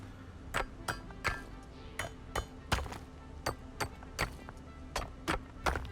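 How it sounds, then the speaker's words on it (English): Chiseling sound from the video game Satisfactory, a quiet series of sharp metallic clinks and knocks in an uneven stomp-stomp-clap rhythm, repeating steadily throughout. "the chiseling sound is to We Will Rock You from Queen"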